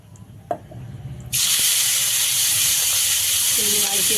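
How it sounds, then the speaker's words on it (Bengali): Prawns hit hot sesame oil in a wok and set off a sudden loud, steady sizzling hiss that keeps going, with a few kitchen clatters just before it. "এবার চিংড়ি মাছগুলো লাল লাল করে ভাজা হবে"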